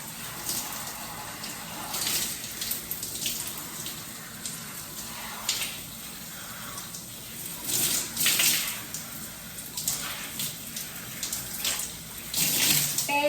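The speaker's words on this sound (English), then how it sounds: "I'm just gonna go ahead and hop in the shower" Water from a shower runs steadily during a wash-day hair rinse for type 4 natural hair. It is a continuous hiss with splashy surges where the stream hits hair and hands, fairly close, with no talk.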